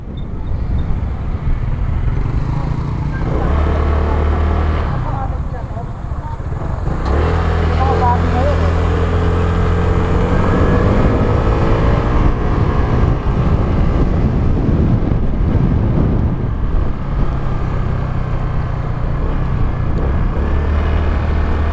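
A Euro Griffin 180 CVT scooter accelerating on a test ride, with a loud, close engine drone that rises in pitch over several seconds, mixed with wind buffeting and someone talking.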